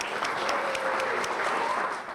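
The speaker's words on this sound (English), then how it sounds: "Let's give them a round of applause." An audience claps together at a community program, steady dense applause held at an even level from start to finish, with no voices rising above it.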